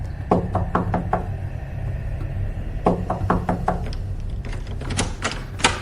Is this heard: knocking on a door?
yes